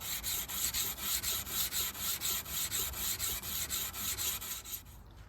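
Steady back-and-forth hand sanding of a san mai chef knife blade with 600 grit paper, a rhythmic rasping stroke repeating about three times a second, close and even, slowing at the end, with no voices.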